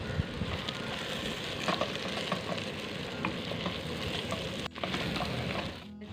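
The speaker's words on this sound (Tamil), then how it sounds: "சேர்த்து வதக்கிக்கலாம்." Beans, carrot and potato sautéed in a clay pot for paneer biryani: a steady close sizzle with scattered stirring scrapes and clicks, no voices.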